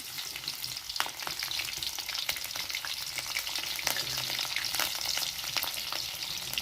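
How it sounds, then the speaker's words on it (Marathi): Green chillies and garlic fry in hot oil in a wok, giving a steady, close crackling sizzle with scattered sharper pops throughout, no voices. "हिरवी मिरची पण चांगली तळली आहे"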